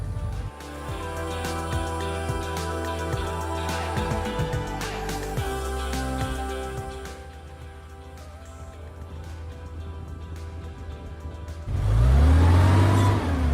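Amphicar amphibious car revving its engine while afloat in water at an auto festival, a steady mid-pitched drone with scattered clunks and splashes, easing off midway before a loud, deep surge of revving near the end.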